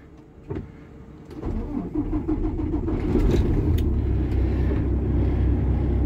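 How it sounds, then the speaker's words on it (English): A 2018 Peterbilt truck's engine restarts up close: a starter cranks briefly, then the diesel catches and settles into a steady, loud idle rumble. "Now what we're going to do is we're going to restart the truck."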